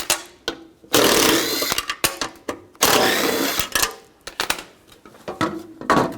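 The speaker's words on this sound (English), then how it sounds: "you can take these 3 bolts out," Ratcheting 10mm socket wrench backing three bolts out of the front driver's side window motor on a 2004-08 Nissan Maxima, loud close bursts of rapid clicking separated by short pauses, with no talk.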